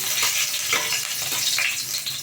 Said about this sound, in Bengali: তেলটি গরম হয়ে গেছে কড়াই এবার আমি লঙ্কাটা দেবো একটা লঙ্কা দিলাম